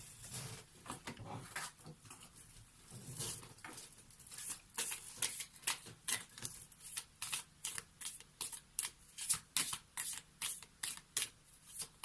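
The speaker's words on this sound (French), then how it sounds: "Le temps que je ramasse les cartes qui sont tombées." Tarot cards being gathered up and shuffled by hand, a rapid run of crisp papery flicks and riffles that grows more regular and rhythmic over time, close and moderately loud with no voice over it.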